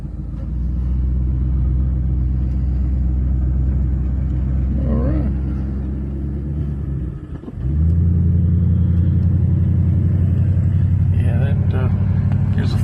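A 1975 Pontiac LeMans on a road test gives a loud steady engine rumble from inside the car, dipping briefly midway before settling back to a strong drone, with some faint background voice.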